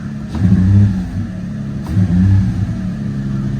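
A Nissan G35 engine with a freshly replaced coil pack runs close by, holding a steady idle broken by two brief revving swells.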